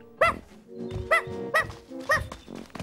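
A small cartoon dog gives four sharp, yappy barks at an even pace, clear and close, with quieter shuffling noises between them and a fainter final yip.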